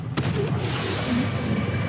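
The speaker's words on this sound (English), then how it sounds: "Level 1 magic missile." Magic missile spell cast at level 1 in the video game Baldur's Gate 3, a sharp burst of impact near the start followed by a steady rumbling, crackling bed of game sound.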